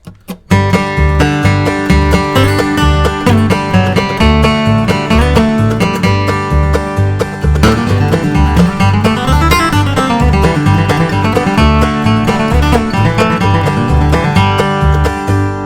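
Bluegrass flatpicked acoustic guitar solo of a tune, with busy continuous single-note runs and power triplet phrases, played loud and close without any talk.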